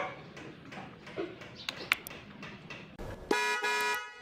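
A dual contact horn on a Rusi 125 motorcycle honks in short bursts, ending in a louder sustained blast close by, with a few clicks between toots.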